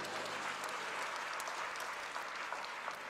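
A church congregation applauding and acclaiming the Lord, a dense, continuous wash of many hands clapping at moderate distance, fairly faint, with scattered voices blended into the crowd.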